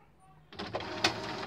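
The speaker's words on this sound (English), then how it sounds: "I'm just going to switch my printer on." An HP inkjet printer is switched on and begins to work. After a short quiet moment, mechanical whirring and clattering start abruptly and continue steadily, with a sharp click partway through.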